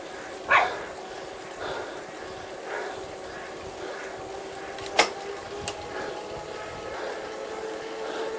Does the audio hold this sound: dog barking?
yes